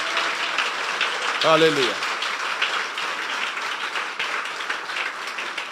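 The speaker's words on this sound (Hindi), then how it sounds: "अगर आपको बरकत मिली है तो यीशु के जलाल के लिए तालियां बजाओ।" A church congregation claps and applauds together, a continuous dense patter of many hands throughout, with a single voice briefly calling out over it.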